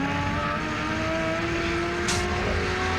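Touring cars race in the 1989 Australian Touring Car Championship round at Wanneroo, a loud, steady engine drone with a sharp high burst partway through.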